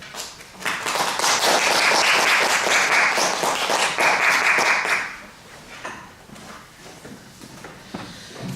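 An audience at a multicultural humanities lecture welcomes Professor Choi Dong-hak with a burst of clapping that swells strongly for about four seconds, then thins to scattered claps and light shuffling.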